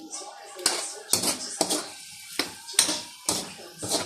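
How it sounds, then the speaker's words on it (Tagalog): Vegetables with oyster sauce are stirred in a pan, giving a series of sharp scraping and clattering strokes against the cookware at an uneven rhythm, close and fairly loud, with quiet gaps between them. "lagyan na natin dito yung oyster sauce. Haluin na po natin."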